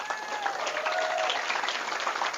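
An audience at a religious talk breaks into brief, dense applause, a steady burst of many hands clapping with a few faint whistle-like tones mixed in.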